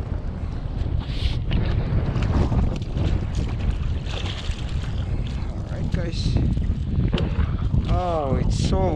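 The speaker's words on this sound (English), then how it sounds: "Oh, it's so windy out here, guys. So windy." Strong wind buffets the microphone in gusty bursts over open water on a fishing trip, with occasional water sounds and brief voices in the background.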